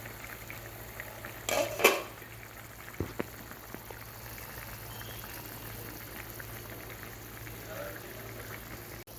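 Curry shrimp simmers and bubbles in a pot with a steady low background of boiling, broken by a brief louder clatter or stir near the start.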